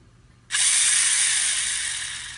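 A LEGO EV3 motor starts abruptly after brief quiet and runs as a steady, close, bright mechanical whir that fades slowly over the following two seconds, with no talking.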